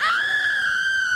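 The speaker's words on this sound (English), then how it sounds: "The scream says no." A single sustained, high-pitched scream effect from a game show marks a wrong answer, loud and steady for about a second.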